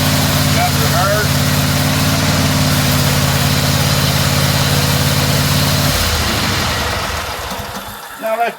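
An SST 16 BRS riding mower engine runs loud and steady with a low harmonic drone, then shifts and rises in pitch near the end before cutting back as it is put into reverse.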